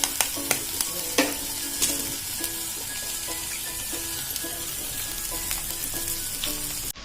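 Eggs frying with red chili and turmeric in a pan, heard as a steady close sizzle broken by repeated scraping stirs and light metallic taps from the spoon.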